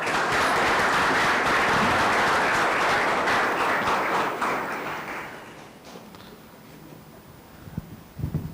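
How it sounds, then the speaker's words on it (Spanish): Audience at an academic law conference applauding to welcome a speaker, loud full clapping for about four seconds that then tapers off into scattered claps and room noise. "por favor lo recibimos con fuertes palmas"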